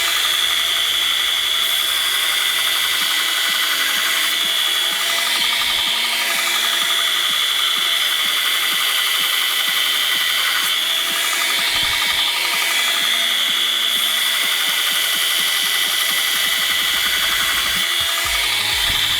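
A belt grinder grinds short bevels onto a heat-treated knife blade, a continuous loud high-pitched whine and rasp of abrasive on steel with slight shifts as the blade moves, running alone without talk.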